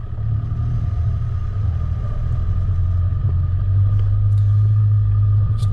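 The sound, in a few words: 4WD vehicle climbing steep rocky track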